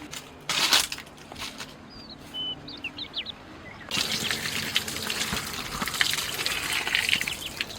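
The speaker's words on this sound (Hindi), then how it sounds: "सारे परवल को ऊपर से छील दिए हैं, अब इसे धो लेते हैं।" Peeled pointed gourds are washed in water, with close splashing and trickling that grows busier and louder toward the end, while faint birdsong chirps in the background.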